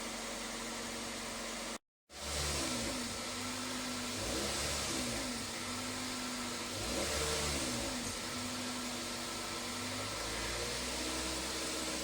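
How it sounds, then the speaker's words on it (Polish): A 2002 Toyota Corolla E12 engine, which has a P0420 catalyst fault, idles steadily and fairly close while warming up, a constant low hum with a brief gap near the start before it settles back in. "Czekamy chwilę, aż silnik się zagrzeje i katalizator się zagrzeje"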